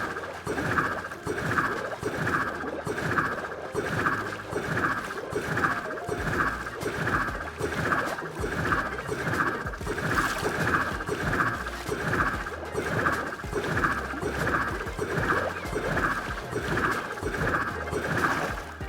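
Rapid rhythmic whooshing surges from a Riptide Trident launching a player through a long water tunnel in Minecraft, repeating steadily for the whole stretch with a constant watery hiss underneath.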